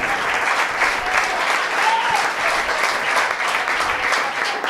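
A stand-up comedy crowd applauds, a loud, even roar of many hands clapping close by that never lets up across the whole stretch.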